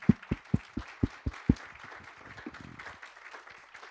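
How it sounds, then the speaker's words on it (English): A small audience at a recreation and fire district gathering gives a round of applause: several loud, evenly spaced claps up front, then softer scattered clapping that tapers off. "With a round of applause,"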